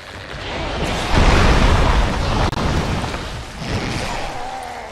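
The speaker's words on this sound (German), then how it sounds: "Und die Wand explodiert." A wall explodes in Dark Souls 2, a dense rumbling blast swelling after the first second and sustaining with crumbling noise, a sharp crack midway, then fading into a softer second burst.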